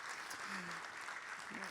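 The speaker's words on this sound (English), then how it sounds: "Can we have a huge round of applause for Vandana, who's been introducing everyone" Large crowd applauding at a stand-up comedy show at a Bengaluru literature festival, faint, dense and continuous clapping heard from a distance, with a brief voice or two rising in the background.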